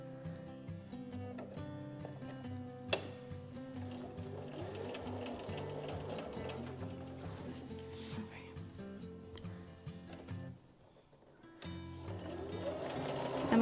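A sewing machine at a home sewing table stitches a quilt pattern with a continuous mechanical whir. It is partly covered by background music and a voice, drops briefly near the end, then starts again.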